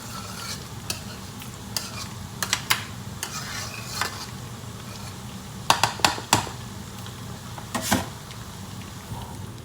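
Beef sizzles steadily in a pot for Haitian-style cooking, broken by sharp scraping clinks of a utensil stirring against the metal, loudest in a cluster of knocks midway, with no talking.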